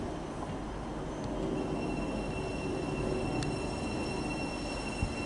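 A Thameslink Class 700 electric unit, 700-049, pulls into St Albans City station with a steady, close rolling rumble and a faint high wheel squeal, and no voices.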